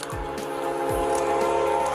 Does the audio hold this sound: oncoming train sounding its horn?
yes